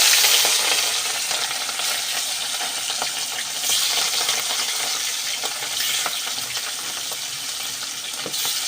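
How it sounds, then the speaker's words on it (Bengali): Pieces of rohu fish fry in plenty of hot oil, giving a continuous, even sizzle with small crackles and pops throughout and no talking. "এবার মাছগুলো আমি ভেজে নেব।"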